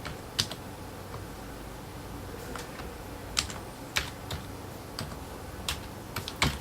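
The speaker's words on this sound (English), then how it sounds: "I type in my first personal name, my last name, and my email address." Someone typing a name and email address on a computer keyboard, producing sparse, irregular key clicks with a few sharper taps, close and fairly quiet over low room hum.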